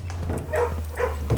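Dogs in a kennel in the video game Blue Prince give a few short yips and whimpering barks, fairly close, over a steady low hum.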